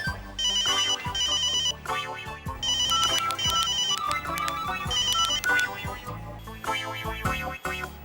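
A phone ringtone for an incoming call plays as a loud, repeating electronic melody in steady bursts, filling the clip from start to end.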